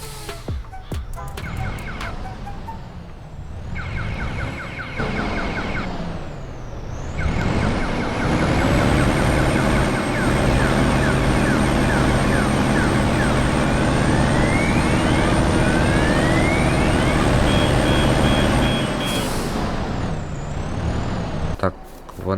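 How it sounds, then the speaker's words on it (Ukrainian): KAMAZ-5511 truck engine running in Farming Simulator 22, a loud continuous drone with rising and falling revs and a steady high whine, interrupted by brief hisses and gear changes, under a voice. "вантажівку глушити не буду. І якось зараз помали заїдемо самим Камазом"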